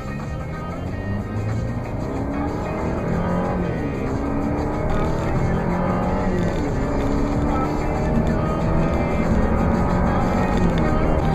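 An Alfa Romeo Giulia with a 2.0T 200 hp engine and ZF eight-speed automatic drives along, its engine note rising and falling through gear changes over steady road and cabin noise, with speech in the background.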